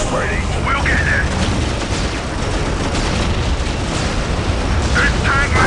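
A tank in the video game Dawn of War gives off a steady, loud, heavy rumble that fills the whole stretch, with faint voice-like calls over it near the start and end.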